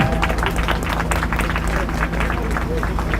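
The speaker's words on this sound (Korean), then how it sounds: "언론인들께 감사 박수 해주십시오." Crowd clapping outdoors in the cold at a Christian media protest rally in front of a broadcasting hall, a brisk, close burst of many hands mixed with murmuring voices and a low steady hum.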